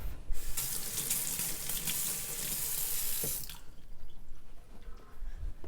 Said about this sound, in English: I'm gonna rinse off the knife.